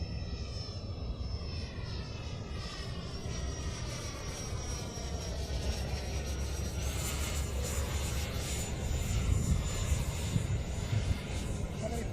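A model airplane's engine whines continuously as it flies over an airfield in high winds, a steady buzzing drone with a rising pitch sweep, heard under wind noise.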